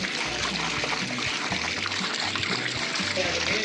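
Continuous water pouring and trickling into a large biryani cooking pot at a college food festival, steady and close, with people talking over it.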